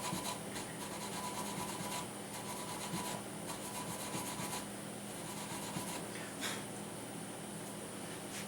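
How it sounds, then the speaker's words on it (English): A guitar nut is buffed down by hand to fix an over-slotted nut, producing a steady, close rasping rub in repeated back-and-forth strokes that continue throughout. "I don't think I have to do too much more here except to buff this nut down."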